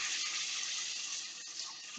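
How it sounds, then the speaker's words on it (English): Water pours into a pan of pepperoni-and-cheese stuffed pork chops, a steady close hiss-like stream running the full two seconds with no talking. "I'm going to add just a smidge of water to the pan"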